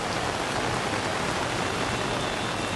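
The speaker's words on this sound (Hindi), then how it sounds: "लगातार तेज बारिश हो रही है।" Heavy rain pours onto Delhi streets, a dense, even roar of drops hitting the pavement that holds steady throughout, loud and close with no voices.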